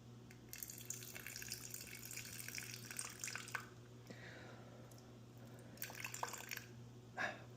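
Faint trickles and splashes of water pouring in short bursts into a sourdough starter, with soft clinks and a steady low hum in the background.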